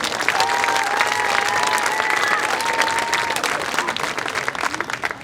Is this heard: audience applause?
yes